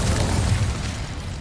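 An Incendio fire spell is cast in a magic school video game on PS5, a short dull whoosh-like burst of fire that fades quickly.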